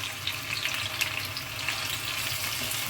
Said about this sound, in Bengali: এগুলো আস্তে আস্তে আমি ভেজে নেব